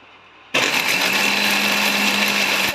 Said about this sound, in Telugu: ఇవన్నీ మనం మిక్సీ జార్లోకి తీసేసుకొని కొంచెం పేస్ట్ లాగా పట్టేసుకోవాలండి